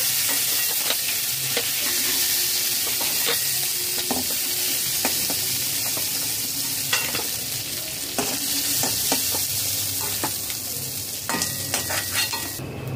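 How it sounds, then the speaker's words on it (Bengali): Crab pieces fry in mustard oil in a wok over low to medium flame, a steady close sizzle with repeated scraping and stirring clinks of a spatula against the pan, no voices. "লো টু মিডিয়াম ফ্লেমে কাঁকড়া 5 মিনিট ভেজে নিয়েছি। ভাজা হয়ে গেছে, তুলে নেব।"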